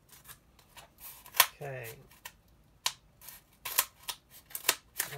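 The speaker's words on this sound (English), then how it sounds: "we like to use scissors" Scissors snipping a paper racing project, a series of sharp crisp cuts at irregular intervals, one with a short rasping slide, and a voice speaks briefly.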